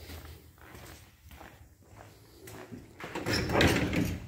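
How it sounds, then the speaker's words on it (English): Footsteps walking around an '83 Chevrolet C10 pickup during a DIY build, then a car door being handled and unlocked, louder clunks and rattles near the end. "Let me go around the other side and unlock the door."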